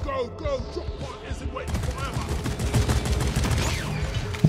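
Rapid bursts of gunfire crackle in the co-op mining shooter Deep Rock Galactic, with dense, overlapping shots growing busier over a few seconds while players talk over the fighting.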